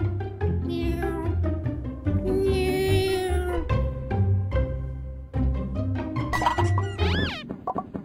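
A cat in Happy Cat, a VR game played with Leap Motion on an Oculus Rift DK2, gives several close, clear meows, some long and drawn out and others short, with thuds and knocks between them.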